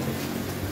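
Steady rain falling as a dense, even hiss, close and continuous, with no talk.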